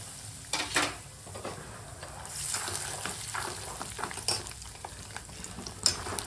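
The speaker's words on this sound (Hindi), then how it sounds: "सबसे पहले हम मूंगफली इस पे डालेंगे और इसे अच्छे से भून लेंगे" Peanuts being roasted in hot oil in a pan for chiwda, giving a soft continuous sizzle with scattered scraping and stirring clicks of a spoon against the pan, close and moderate in level, with no talking.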